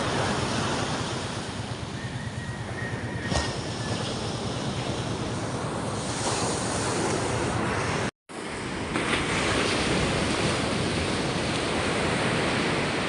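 Sea waves wash steadily onto a beach shore, a loud continuous surf roar with wind noise over the microphone, briefly cutting out near the middle before resuming.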